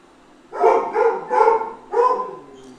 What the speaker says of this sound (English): And my dogs are going off again.